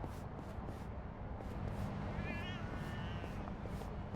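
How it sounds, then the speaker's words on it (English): A cat meows briefly in the Lost Judgment: Kaito Files video game, a short wavering call rising above a dense bed of game ambience and background noise, with faint rhythmic clicks. "I'm hearing another cat somewhere"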